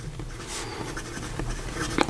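Broad-nib Diplomat Excellence A Plus fountain pen scratching across paper in soft, close strokes, with faint intermittent scraping and a small tap near the end.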